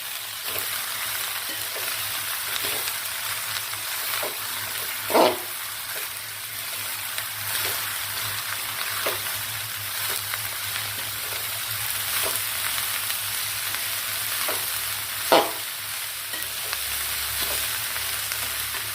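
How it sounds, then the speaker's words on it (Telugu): Cabbage frying in tempering oil, a steady dense sizzle like light rain, with occasional faint stirring scrapes and two louder knocks against the pan, close and continuous without talk. "క్యాబేజీని కొంచెం సేపు వేగనిద్దాం."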